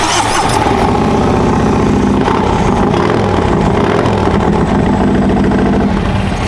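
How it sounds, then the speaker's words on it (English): A 2023 Harley-Davidson Freewheeler trike with a loud aftermarket zombie exhaust fires up and rumbles steadily, deep and throaty, recorded up close. "We put the zombie exhaust. Get a load of this, ladies and gentlemen."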